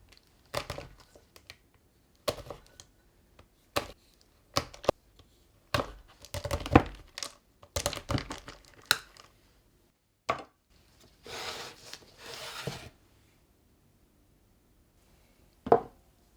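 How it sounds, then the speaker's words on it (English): A knife chops chocolate on a board for gourmet truffles, giving a series of sharp, close cuts in irregular clusters with pauses, alone without talk. "Chop the chocolate."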